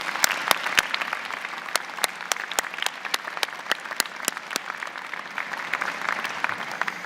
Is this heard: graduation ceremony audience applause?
yes